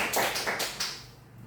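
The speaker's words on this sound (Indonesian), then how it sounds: "Tolong dia beri aplaus dulu ke temannya." Students in a classroom applaud a classmate with a short burst of a few quick claps that fades within a second.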